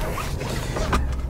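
Inside a Peugeot 107, a car seat belt is pulled out with a quick ratcheting zip and clicked into its buckle, close and brief.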